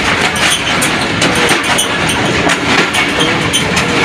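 The 211up Narowal passenger train runs on the rails as it nears Narang station, a steady loud rumble with rhythmic clickety-clack of wheels over rail joints, close and continuous, with no voices.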